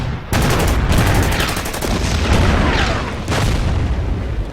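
Heavy artillery attack in the WWII strategy game Order of Battle, Winter War at Suomussalmi: loud, dense booms and rapid gunfire crashing nearly continuously, with repeated sharp blasts close up.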